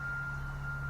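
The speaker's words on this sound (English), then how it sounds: "pardon the backup alarms and stuff" A steady backup alarm tone from road construction vehicles grading a nearby road, heard at a distance over a low engine hum.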